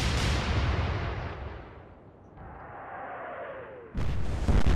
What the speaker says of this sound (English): Oh, that is a huge explosion.